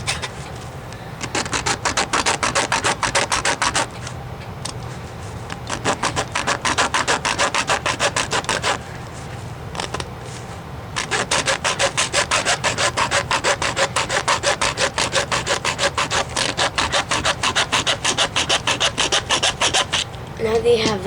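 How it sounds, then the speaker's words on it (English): A hacksaw cuts through a wooden duck call in fast, steady back-and-forth rasping strokes, close and loud, pausing briefly twice before resuming. "just take your hacksaw and saw it away"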